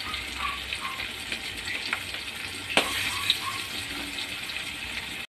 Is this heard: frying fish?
yes